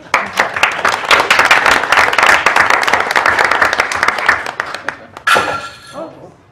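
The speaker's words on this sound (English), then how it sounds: "Let's all give Don a round of applause." Board meeting audience gives a round of applause, a loud burst of many clapping hands that fades after about five seconds, then a sharp clatter and a few murmured voices.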